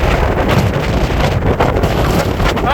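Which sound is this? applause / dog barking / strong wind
strong wind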